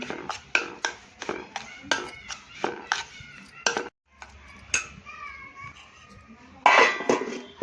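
A spoon scrapes and taps against a bowl while semolina is stirred together with yogurt, giving a steady series of clinks and knocks that pause and then return with a sharper metallic rattle. Faint voices can be heard in the background.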